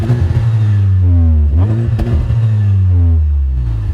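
A sports car with a functional hood scoop and plenty of aero, its engine revving up and down in several rising pulls with a smooth, mellow exhaust note, loud and close with no talking.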